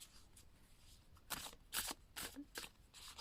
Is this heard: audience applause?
no